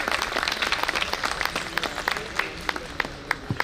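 Clapping from the audience at an engineers' association New Year celebration function, fairly close and lively, with distinct individual claps standing out from the steady applause.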